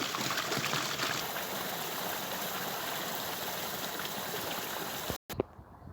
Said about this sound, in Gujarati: પાણીનો અવાજ આ છે